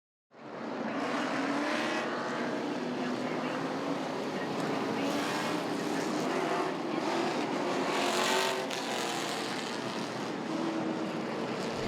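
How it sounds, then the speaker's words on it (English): Pepsi Grand Stocks race cars at Langley Speedway, a loud, continuous roar of several engines that holds steady for the whole stretch and swells briefly near the end. "It is the second race for the Pepsi Grand Stocks at Langley Speedway."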